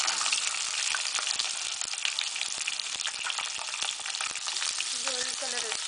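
Sliced onion with green chillies and tempering spices fries in hot oil for an aloo tomato curry, giving a steady, dense close sizzle throughout, with occasional stirring taps and faint clinks.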